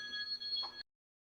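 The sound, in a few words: mobile phone ringing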